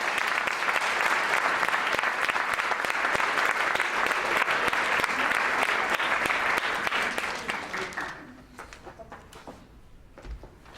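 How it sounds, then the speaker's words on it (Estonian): Sustained applause from a concert audience at a music school's 20th anniversary concert, dense and steady for about eight seconds, then fading out into a few scattered claps. "Üle aplausi talle"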